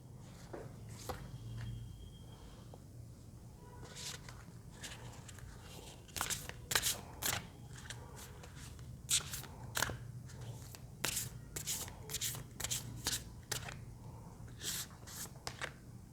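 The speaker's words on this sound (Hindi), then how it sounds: "जब तक मैं कार्ड शफल कर रही हूँ" Tarot cards are shuffled by hand, a quiet sequence of crisp riffling flutters and taps that grow denser in the second half, close and soft.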